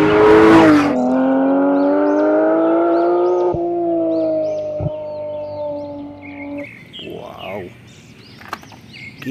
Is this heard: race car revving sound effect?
yes